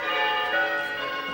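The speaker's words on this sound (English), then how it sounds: "The bells of Gory Cathedral." Church bells of a cathedral ring in a sustained, steady peal with layered overlapping tones, loud and close, with no voices.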